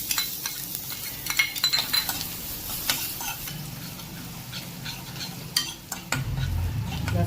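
Chopped garlic and ginger sautéing in oil with cumin, curry leaves and asafoetida: a soft sizzle broken by frequent spatula scrapes and light clinks against the pan, with the frying growing louder near the end.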